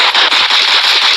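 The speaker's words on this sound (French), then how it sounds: "Oh non, il y a un autre mec qui me tire dessus." Rapid automatic gunfire from a Fortnite-style copycat battle royale video game, a dense loud burst of about seven or eight shots in a steady rhythm with no talking.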